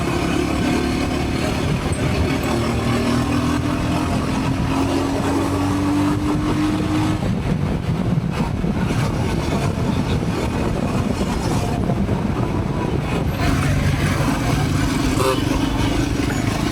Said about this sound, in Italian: C'è una moto che scorreggia.